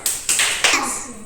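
Children in a classroom hide-and-seek activity clap in three quick bursts of hand claps, fairly close and bright, fading between bursts.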